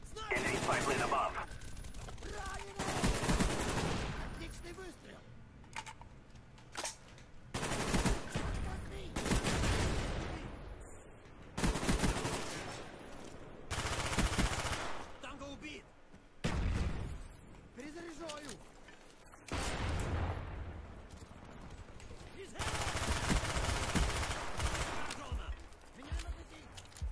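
Rapid gunfire in Call of Duty: Black Ops, with repeated loud bursts of automatic fire and blasts broken by short pauses, and a voice speaking between and under the shooting.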